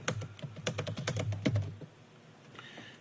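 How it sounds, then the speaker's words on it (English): Rapid keystrokes clatter on a computer keyboard for about two seconds, close and fairly quiet, then fall silent. "I have to type in something else here."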